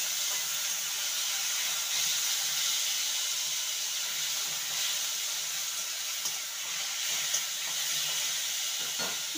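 Mashed boiled pointed gourd (potol) fries in a pan with a steady, loud broadband hiss and sizzle that holds evenly throughout, no voices.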